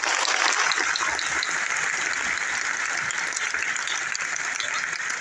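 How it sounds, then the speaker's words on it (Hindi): A school audience of students applauding a district education officer at a government secondary school, dense and loud clapping that holds steady throughout without pauses. "चले बच्चों, बात अच्छी लगी है तो भरपूर डीओ साहब के लिए ताली बजाएं।"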